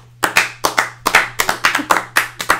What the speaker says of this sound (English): I just embraced my own slow clap.